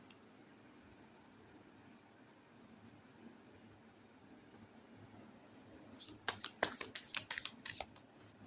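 Tarot cards being shuffled in a quiet room, a quick run of crisp riffling flutters and soft slaps in the final few seconds after a long stretch of faint hiss.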